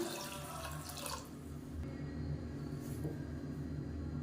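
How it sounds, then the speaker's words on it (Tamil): Black urad dal is washed under running water, probably from a kitchen tap, a moderate steady splash and trickle with a few brief louder gushes and a low background rumble, and no one speaking. "இப்போ இதை நல்லா ரெண்டு மூணு தடவை கழுவிட்டு பார்க்கலாம்"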